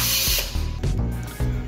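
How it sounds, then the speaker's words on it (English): A handheld screwdriver or driver works loose screws from a paper towel dispenser, giving several short ratcheting, grinding bursts with brief pauses between them, close and fairly loud. "Gotta unscrew the screws that were already there."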